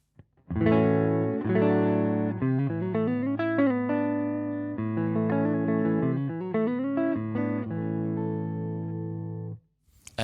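Clean electric guitar played with no overdrive, the dry reference tone before a set of KLON overdrive pedals; sustained chords and melodic notes ring out steadily for about nine seconds, alone and fairly loud.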